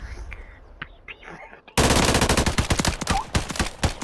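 Tempest Razorback gunfire in a Call of Duty match: after a quiet opening, loud rapid automatic bursts start abruptly and keep hammering in dense, uneven volleys right up close.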